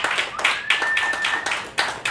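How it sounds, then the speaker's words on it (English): Audience clapping at a book launch, a short burst of applause from a small crowd, fairly close and lively, with uneven swells of claps and a faint voice over it. "it's fitting that we clap before he even comes out"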